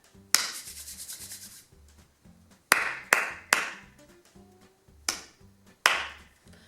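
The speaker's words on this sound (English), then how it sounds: "let me clap this rhythm for you first as you keep a steady beat" A teacher clapping a rhythm over a steady beat track: a quick run of rapid claps, then a pattern of single sharp claps spaced unevenly, close and distinct, with a soft repeating pulse underneath.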